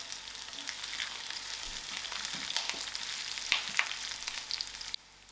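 Curry leaves and green chilies hitting hot oil with browning onions give a steady, bright sizzle and crackle, close and continuous, with a few sharper pops near the end.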